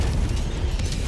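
A broad, rumbling explosion from Helldivers 2 blasts the player, filling the whole short moment with a dense, loud roar and no clear start or end.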